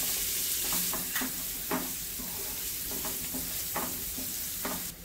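Chopped onion and 2-3 green chillies fry in a pan with mustard seeds and asafoetida, giving a steady loud sizzle broken by repeated scraping stirs of a spoon, with no talking.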